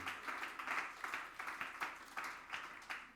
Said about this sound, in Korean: 격려와 위로의 박수를 드리도록 하겠습니다